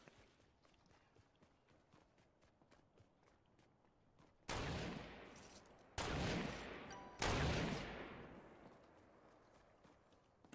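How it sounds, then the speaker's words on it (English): Three loud gunshots in Fortnite crack out one after another, each followed by a decaying tail, after several seconds of quiet, light footstep-like ticking. "Who's shooting at who?"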